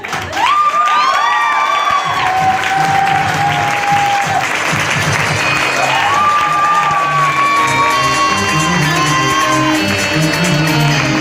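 A seminar audience breaks into sustained, loud applause and cheering that fills the room steadily for several seconds, with scattered shouts and whoops over the clapping and background music tones.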